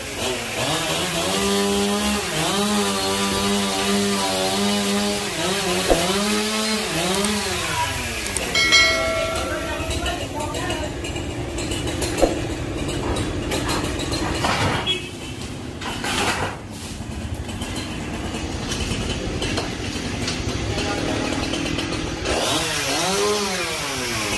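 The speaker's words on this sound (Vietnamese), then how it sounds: "anh Tùng chỉ mới có được cưa được một phần trăm thôi" A chainsaw runs loud and close, its engine revving up and down in surges while cutting through the thick trunk of a huge 200-year-old sộp tree, with voices talking intermittently over it.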